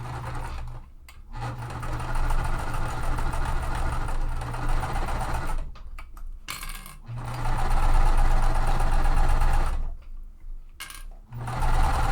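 Sewing machine stitching cotton quilt seams in long runs of fast, even mechanical whirring, broken by brief pauses between bursts, close and clear with no talking.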